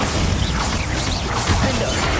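A Bombarda blasting spell bursts in Hogwarts Legacy amid game combat, a dense, loud crash with smashing, crumbling debris layered over a busy rumble.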